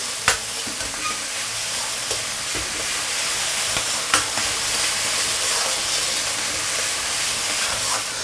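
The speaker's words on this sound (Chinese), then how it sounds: "接着开小火慢慢去炒它，豆瓣酱一定要给它炒烧" Red-oil doubanjiang bean paste stir-fried slowly over low heat in a wok, a steady soft sizzle with occasional scraping clicks of the spatula, close and continuous without any talking.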